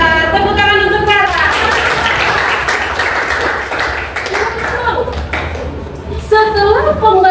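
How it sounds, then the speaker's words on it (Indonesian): A school class applauds a student after her presentation, a busy spread of claps and taps mixed with children's voices and chatter, fairly loud and close throughout. "Tepuk tangan untuk Clara."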